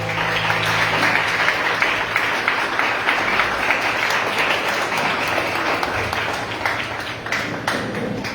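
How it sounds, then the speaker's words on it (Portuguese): A church congregation at a Santa Ceia service applauds, steady dense clapping from a crowd that carries on evenly for several seconds, fairly loud and filling the room. "dê uma linda salva de palmas ao Senhor"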